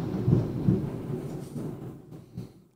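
Deep rumbling thunder from an approaching storm rolls in low, heavy waves with a couple of stronger booms, fairly near and alone without talk.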